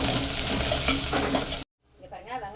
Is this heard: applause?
no